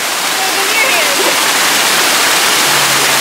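A waterfall roars steadily at close range along a hiking trail that passes behind the falls, a loud, unbroken wash of falling water that masks other sound.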